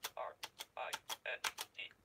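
Keys are struck one at a time while typing the word print during a programming lesson, producing about ten crisp, close clicks in a steady rhythm with short gaps between strokes.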